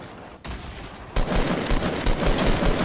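Rapid gunfire in Fortnite Battle Royale, bursts of quick shots fired in loud clusters with a brief pause before a denser, louder volley, no voices heard.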